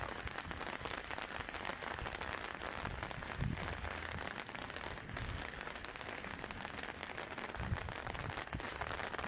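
Steady rain falls during a thunderstorm at a cemetery, a dense, even hiss of drops striking surfaces throughout, with a few soft low thumps and no voices.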